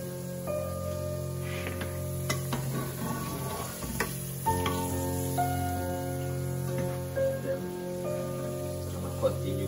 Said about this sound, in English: So I fry my potato until golden brown.